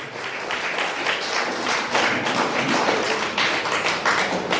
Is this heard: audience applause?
yes